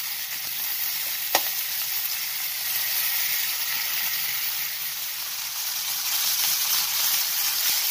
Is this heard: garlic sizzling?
yes